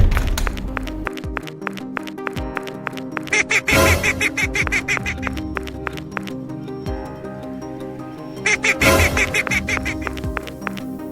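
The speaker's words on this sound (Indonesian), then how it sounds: "itu kan suara klakson si bebek" A loud, rapid, honking quack-like horn repeats in bursts over a busy, noisy background, with two especially strong blasts.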